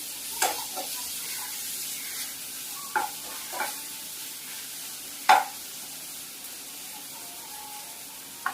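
Onion with ginger-garlic paste frying in a pan for a vegetable rice dish, a soft steady sizzle with a few sharp scraping stirs of a spoon, close and moderately quiet, no voices.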